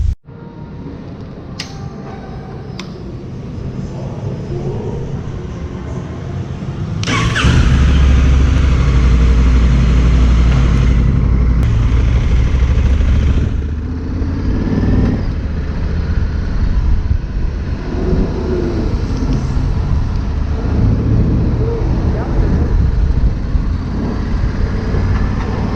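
Honda CRF 1100 Africa Twin DCT motorcycle with a 1100 engine, rumbling close by with a steady low drone that swells louder midway and then settles, no talk over it.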